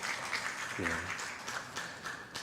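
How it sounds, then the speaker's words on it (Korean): A Korean church congregation at an afternoon worship service claps for a welcomed member, a soft, continuous patter of applause with a short spoken voice briefly rising through it. "뜨겁게 박수 한번 부탁드리겠습니다"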